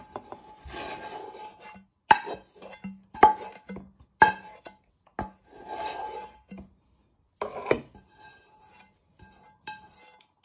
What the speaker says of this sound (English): you want to scrape them all into the bowl